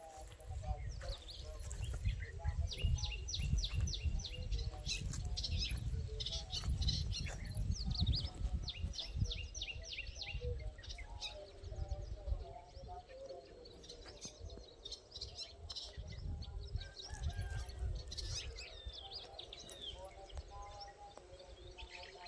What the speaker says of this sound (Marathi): पाखराचा किलबिल आवाज खूप छान यायला